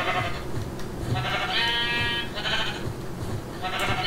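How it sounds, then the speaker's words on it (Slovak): A sheep in Minecraft gives one clear, loud bleat in the middle, set against steady game background noise with a busy low rumble. "Z tejto ovce budeme potrebovať takéto 3 na posteľ."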